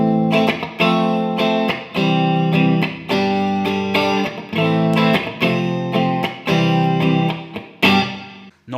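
Clean electric guitar through a Bob Burt Reverb pedal with both knobs at noon, giving roughly a one-second room-like reverb with natural decay; strummed chords ring out in a steady series, loud and close, without talk.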